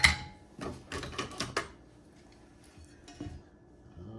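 A whisk clatters against a bowl while honey is mixed into a batter with melted butter, a quick run of close, rattling taps and scrapes at the start that thins out to scattered faint clinks.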